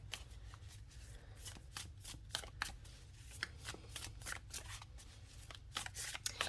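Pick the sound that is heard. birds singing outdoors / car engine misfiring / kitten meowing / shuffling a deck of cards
shuffling a deck of cards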